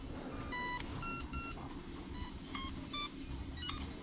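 An HBX 16890 Destroyer RC car switches on with a series of short electronic beeps at varying pitches, spaced irregularly over a steady background hum, faint and close.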